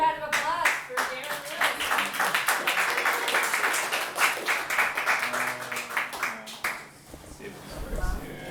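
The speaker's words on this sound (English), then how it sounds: "big round of applause for Darren" Audience at a tech talks miniconference clapping for a speaker: dense, close applause with sharp individual claps, lasting several seconds before thinning out, with a voice speaking briefly near the end.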